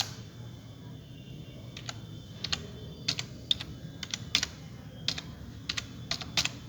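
Fingers typing an email address on a computer keyboard: bursts of quick, crisp key clicks in short irregular runs over a low steady room hum, close and fairly quiet, with no one talking.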